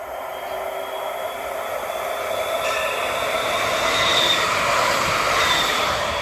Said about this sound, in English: It's going to be an Incentro.